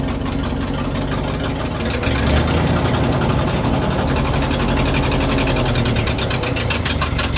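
A fire truck's engine idles and runs loud and close, a steady, dense rumble holding throughout with no break.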